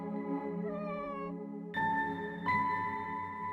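A hungry cat mews repeatedly up close, its long drawn-out cries rising and breaking into new calls, steady and fairly loud with no voices around.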